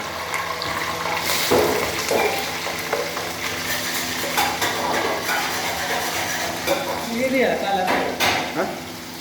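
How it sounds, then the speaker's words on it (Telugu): Onions stirred and frying in a pan for goat curry, with a steady sizzle, scraping ladle strokes and metallic clinks against the pan, close and continuous. "ఉల్లిగడ్డలు వేసుకున్న తర్వాత మంచిగా కలుపుకొని ఇట్లా మంచిగా గోలని వేసుకోవాలి"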